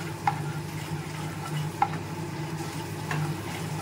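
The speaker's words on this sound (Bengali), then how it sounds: "আর একটু দিচ্ছি লঙ্কার গুঁড়ো দিয়ে এবার আমি ভালো করে কষিয়ে নেব।" Spices and chili powder frying in oil while being stirred, a low steady sizzle with three spaced, sharp spatula taps against the pan.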